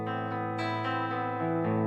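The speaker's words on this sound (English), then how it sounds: "that's the old chorus ensemble CE3. A little bit of reverb." Sustained sound passed through an old Boss CE-3 Chorus Ensemble with a little reverb, a rich shimmering chord with slow swells, heard alone without voices.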